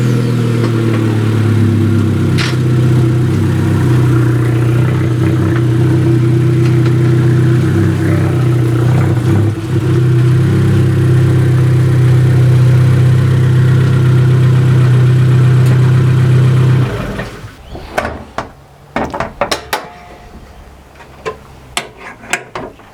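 An Abarth 595 Competizione engine idles loudly and steadily up close for a long stretch, then cuts off abruptly, leaving scattered clicks and small handling noises.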